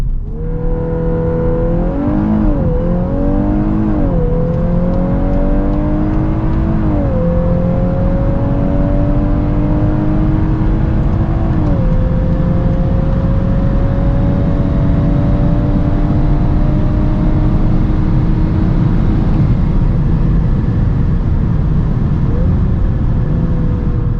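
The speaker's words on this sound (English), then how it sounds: "So let's now see how fast the Golf R goes, 100 to 200." A Volkswagen Golf 8 R with 320 hp accelerates hard from 100 to 200 km/h, its engine note climbing steadily through several gear changes, loud and close with steady road and wind roar beneath.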